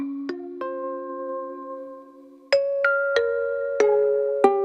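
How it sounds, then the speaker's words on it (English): Music played from a phone over Bluetooth into a Sonicake Pocket Master pedal amp modeler, heard as clear sustained tonal notes with sharp plucked or struck attacks, steady and fairly loud, with no voices. "I can actually start just playing music from my phone if I wanted to"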